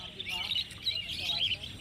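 Small birds chirping at Garia bird market, with several bright, overlapping tweets close by in a short burst over faint background bustle.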